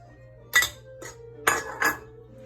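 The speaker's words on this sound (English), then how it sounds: "Give it a nice stir." Metal spoon scraping and clinking against a pot of chicken and dumplings with spring vegetables in broth, four short clattering strokes over a low steady hum, close and moderately loud.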